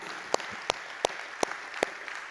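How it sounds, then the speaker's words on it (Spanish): A church congregation applauding during a sermon: a soft wash of crowd clapping with a few sharp, evenly spaced claps standing out close by in a steady rhythm. "Dale un fuerte aplauso a Él, iglesia."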